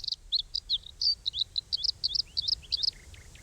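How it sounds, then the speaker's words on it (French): A bluethroat sings a fast series of short, high chirps and warbled phrases, clear and fairly close, over a low background rumble. "gorge bleue à miroir est revenue de migration et compte bien se faire entendre"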